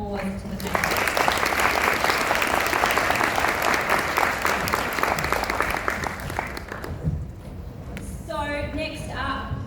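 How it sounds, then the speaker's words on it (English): Applause from a conference panel audience fills the room, steady and fairly loud for about six seconds before fading, and then a voice starts speaking. "So a big round of applause to the panel."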